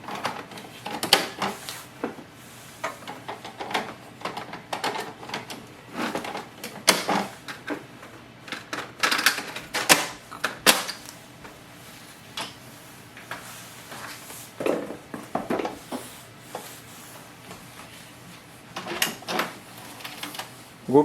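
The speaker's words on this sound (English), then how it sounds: "Install the ink cartridges." HP 68 ink cartridges are pushed into a printer's ink chamber, giving scattered plastic clicks, snaps and rattles in irregular bursts with quiet pauses between, close up and moderately loud, with no one talking.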